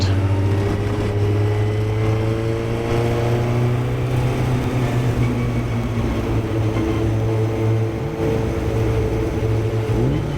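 A Formula Ford race car rolls up to the start at Watkins Glen in a 2023 VRG race, its engine droning loud and steady from the cockpit with a low hum and harmonic whine, with a slight rev change near the end.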